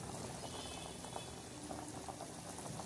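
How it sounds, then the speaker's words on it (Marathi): Goat trotters simmer with turmeric in a pot, making a continuous bubbling boil with small pops and gurgles, quiet and close, with no voices. "हळद टाकून हे उकळले आहे"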